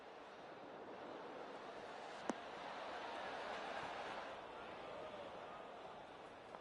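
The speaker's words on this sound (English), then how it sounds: "We've got a headwind blowing in our face on this one." Steady wind blowing across a golf course in PGA TOUR 2K25, a soft, constant whooshing rush heard faintly and evenly throughout, with one brief sharp click partway through.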